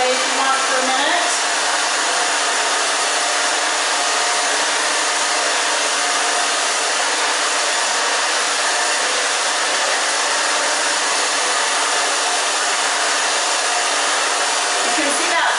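A hair dryer blows steadily and loudly on hair during an undercut bob styling, an unbroken close airflow roar that lasts the whole stretch with no talking over it.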